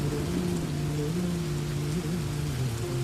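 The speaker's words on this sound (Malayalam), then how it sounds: "ഭയങ്കര മഴയുടെ സൗണ്ട്." Heavy rain pours down steadily, a dense broadband hiss filling the whole clip at constant loudness, with a low tonal hum running beneath it and no voices.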